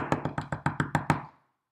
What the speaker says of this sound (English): he heard a knock on the door